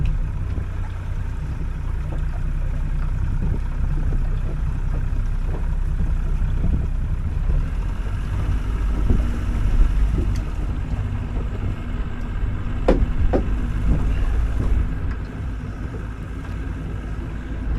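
A small boat's outboard motor runs steadily on the Wyre estuary in February, a continuous low drone with wind buffeting the microphone and water noise around it, holding steady without talk.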